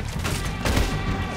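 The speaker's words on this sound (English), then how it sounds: "shooting from the hip, from the waist" Gunfire from Red Dead Redemption 2, fired from the hip: a brief burst of booming shots with a dense low rumble, loud and close, and no speech over it.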